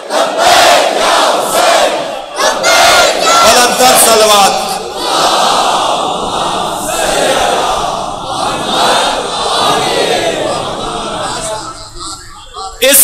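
A large religious gathering at a Shia majlis loudly calls out salawat in unison, a dense, sustained roar of many voices that swells and holds for several seconds before fading.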